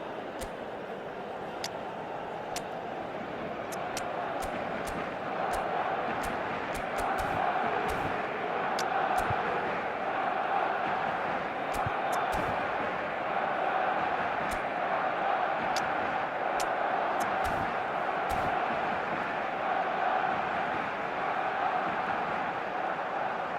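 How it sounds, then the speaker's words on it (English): Steady crowd applause and murmur fills a virtual football stadium in an eFootball match, continuous and moderately loud throughout, with sharp claps ticking above a broad roar. "it's applause all round us here"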